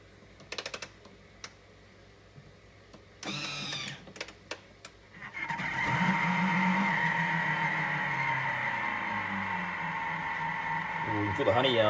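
A kitchen mixer blends a thick honey ham glaze at speed 2, a steady motor whir that comes in after some clicks and rustling and strains slightly under the load.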